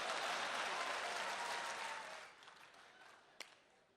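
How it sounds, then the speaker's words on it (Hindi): Full audience applause at the close of a Hindi satirical reading at a Dubai event, dense at first and then thinning into scattered claps with one sharp late clap. "समापन पर भरपूर तालियां बजा देना"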